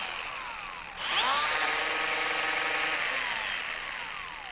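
A Bosch 18V brushless 4-1/2 inch X-LOCK angle grinder starts up after a second of quiet hum and spins up to a loud, steady high-pitched whine that keeps running to the end.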